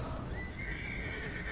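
A horse in the video game Red Dead Redemption 2 neighs in a drawn-out, wavering whinny over a steady background hum, with no talking.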